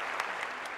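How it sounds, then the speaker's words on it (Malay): Steady audience applause at a recognition meeting, a dense wash of many hands clapping continuously at moderate loudness with no voices over it. "Satu tepukan kepada mereka."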